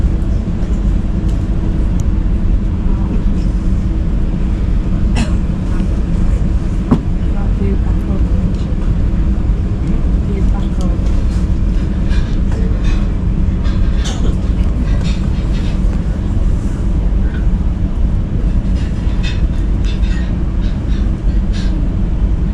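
A Rocky Mountaineer passenger train rumbles past steadily and loudly, with rhythmic rail clatter and occasional metallic clicks throughout, no voices over it.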